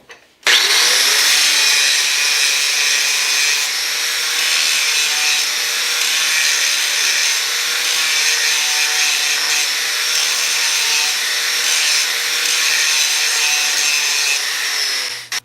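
A wood planer machine runs continuously and loudly while taking a quarter inch off the ends of a board, a steady dense roar that starts suddenly and cuts off at the end.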